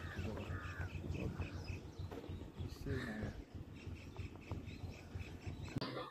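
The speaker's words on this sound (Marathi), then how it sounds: "धरणाचे पाणी, बाजूला गर्द झाडीतले डोंगर व पक्ष्यांचा किलबिलाट आपल्याला ऐकू येतोय." Birds call beside the Koyna dam lake below forested hills, with crow-like caws and scattered chirps rising over a quiet outdoor background while people speak softly nearby.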